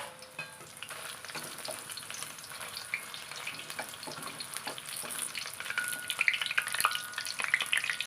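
Dried red chillies fry in hot oil for a mango pickle, a steady crackling sizzle throughout with occasional stirring clinks, growing a little louder and busier toward the end, no talking.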